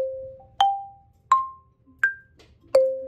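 An arpeggiated bordune rings out on an Orff mallet instrument, likely a metallophone or xylophone, in four evenly spaced struck notes stepping upward, each clear and sustained, then a fifth note follows, played solo and close.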